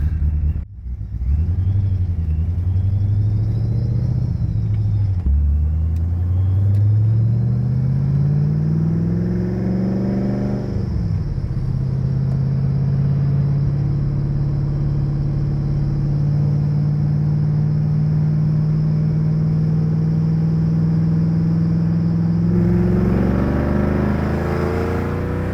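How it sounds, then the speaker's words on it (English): A 1993 Ford Mustang Cobra with an aftermarket cam and supercharger rumbles deep and loud. It revs up and settles twice into a steady, throaty drone, with no one talking over it. "between the cam and the blower, man, it just makes all the right sounds."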